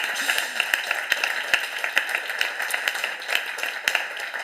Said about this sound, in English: I would like to ask an applause for the organizing team